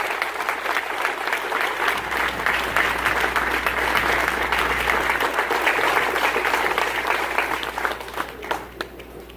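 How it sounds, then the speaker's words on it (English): An audience gives sustained, dense applause for parents, steady and loud throughout with scattered cheers, tapering slightly at the very end. "I want everyone to give a huge round of applause to the parents who made this possible."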